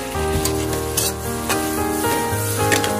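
Tofu and chili stir-frying in a hot wok, a steady close sizzle with a few scraping stir strokes, no voices over the frying.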